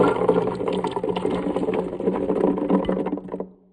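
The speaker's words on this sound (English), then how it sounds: "And throw them into a powerful blender." A powerful blender whirs loudly and steadily, its motor churning black beans with a dense, grinding roar before cutting off abruptly near the end.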